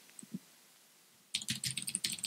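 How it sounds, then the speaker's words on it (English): A search query is typed on a computer keyboard: a couple of faint clicks, then a quick, close burst of rapid keystrokes for about a second, no talking. "I'll just type in employee turnover and search."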